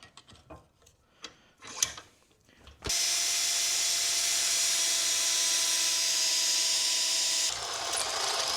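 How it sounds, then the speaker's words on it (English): Power drill boring a hole through a metal gas pedal bracket on a 1965 El Camino with an LS swap: some clanks and handling noise, then a loud steady whine of the drill running for several seconds, changing pitch slightly near the end. "I need to drill my hole in this thing so I can attach my new gas pedal lever"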